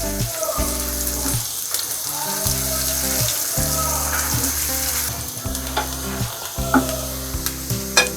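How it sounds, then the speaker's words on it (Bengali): Onion and garlic frying together in oil until light brown, for a thin masoor lentil dal. A bright, continuous sizzle runs throughout, with scraping stirs and a low rhythmic hum underneath. "পেঁয়াজটা হালকা ব্রাউন করে ভেজে নিব আমি"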